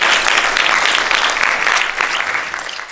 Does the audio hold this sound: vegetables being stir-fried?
no